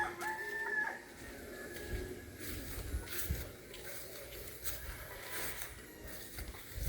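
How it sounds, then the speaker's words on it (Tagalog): Chickens cluck and a rooster crows on a farm in Barangay Gadgaran, Calbayog, faint and a little distant, with rustling outdoor background noise and brief scattered bursts. "May manok pala siya dito alaga."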